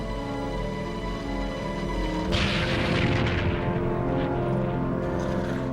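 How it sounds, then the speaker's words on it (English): A World War I torpedo striking the warship Aboukir, a deep explosion bursting out over low droning tones and rolling into a long rumbling roar that slowly fades. "31 seconds later, the torpedo struck Abu Qir."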